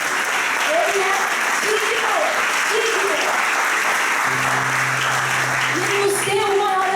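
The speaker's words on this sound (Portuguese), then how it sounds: "Você pode aplaudir o nosso sumo sacerdote, o Senhor Jesus" Congregation applauding at a youth church conference, sustained crowd clapping throughout, with a voice speaking and singing tones over it.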